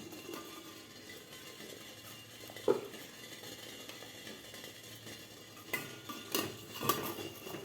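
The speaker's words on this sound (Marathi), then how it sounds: "तर यामध्ये आता आपल्याला प्लेट ठेवायचे आहेत" Metal steamer plates for moong dal idli clink and clatter as they are set into a steamer over boiling water, with one sharp knock early and a few louder clanks near the end over a quiet background.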